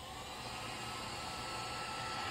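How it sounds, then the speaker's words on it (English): A hair dryer blows steadily across water at close range, a constant airy whoosh with a low motor hum and no other sounds. "if I use a hairdryer to simulate more consistent wind at different strengths"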